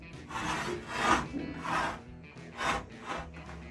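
A misaligned sliding glass door grinds and scrapes along its track in several rough, rasping strokes back and forth, close and moderately loud.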